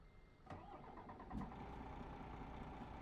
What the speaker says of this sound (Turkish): Neyse biz motorumuzu çalıştıralım şu dörtlüğü kapatalım.